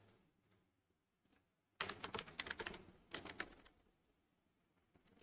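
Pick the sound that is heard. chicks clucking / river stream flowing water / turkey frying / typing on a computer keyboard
typing on a computer keyboard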